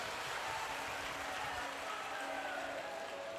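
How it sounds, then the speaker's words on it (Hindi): Audience applause at a Shiv Mahapuran katha, steady dense clapping from a large crowd with a faint hum from the sound system. "एक बार यजमान परिवार के लिए जोरदार ताली बजाकर स्वागत वंदन अभिनंदन करें।"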